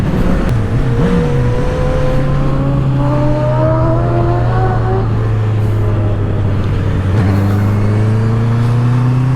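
Motorcycle engine droning steadily while riding on a road, a loud close hum with gradual pitch shifts as the rider changes speed, constant wind rush over it, no one speaking.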